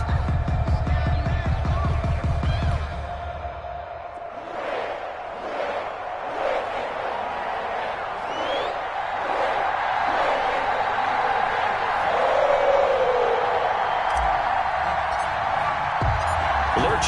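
Stadium crowd noise from an EA Sports NFL video game, a sold-out Cincinnati crowd for a Titans matchup, rolling as a loud sustained roar and cheer while a commentator talks over it.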